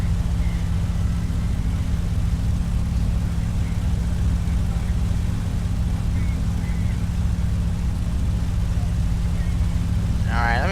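A P-51D Civilian Mustang's piston engine drones at a steady, loud, low roar during takeoff in a simulator, unbroken for the whole stretch.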